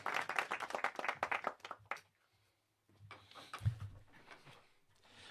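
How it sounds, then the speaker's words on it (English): Hand clap sound effects play from an iPad as a quick burst of sharp, evenly spaced claps. After a short pause a second, softer flurry follows, with a voice talking over parts of it. "This little iPad up here does hand claps for me"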